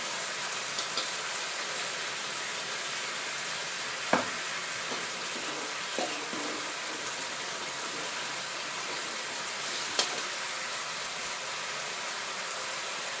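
Three-flavour sauce for sea bass stirred in a pan, a soft continuous bubbling sizzle broken by a few sharp clinks of the utensil against the pan, fairly quiet with no talk.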